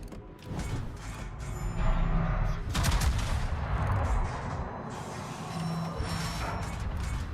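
Naval warship guns fire in a video game battle, heavy booming bursts and mechanical rattling merging into a dense, loud barrage that holds steady throughout.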